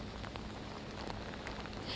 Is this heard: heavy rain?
yes